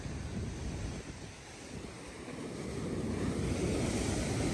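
Ocean waves wash and break along a shore in a steady, broad roar, with wind buffeting the microphone and the surge swelling louder toward the end.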